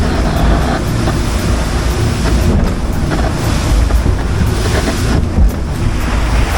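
A 41-foot boat crossing choppy waves while leaving an inlet on the way to Treasure Cay in the Bahamas, with steady loud wash of water and hull slap over heavy wind buffeting, no voices.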